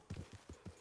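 Horse hooves clip-clop in Red Dead Redemption 2 as a rider mounts and moves off, four distinct close, steady hoofbeats in quick succession with no talking.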